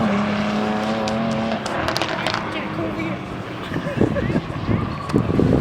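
Cars drifting at a Crail drag strip car show, with revving engines and squealing tyres heard outdoors amid wind noise and crowd chatter, the engine tone rising and growling more roughly toward the end.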